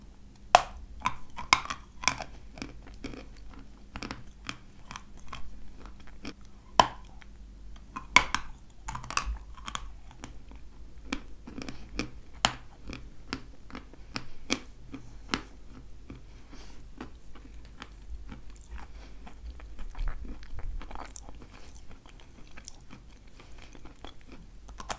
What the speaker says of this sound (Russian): Сейчас я похрущу, погрызу, а потом я вам его опишу.